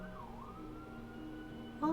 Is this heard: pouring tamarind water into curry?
no